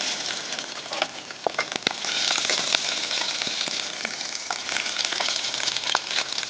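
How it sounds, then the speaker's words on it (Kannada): Food frying loudly in a pan on a TV cooking show, with a steady dense sizzle and scattered crackles and pops running throughout, close and continuous, no talking. "ಈಗ ಇದನ್ನ ಫ್ರೈ ಮಾಡಬೇಕು."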